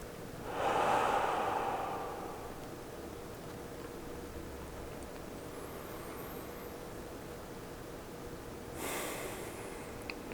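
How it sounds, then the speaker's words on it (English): A slow, deep breath drawn in and let out near the start, with a softer second breath close to the end, over steady quiet room hiss during a guided relaxation session. "Let's take another deep breath, just like that"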